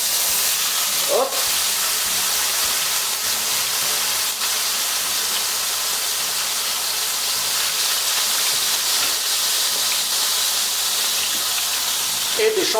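Frozen mushrooms sizzle and hiss steadily in a hot pan as meat cooks, a loud, continuous broadband frying noise that holds through the whole stretch with only small swells.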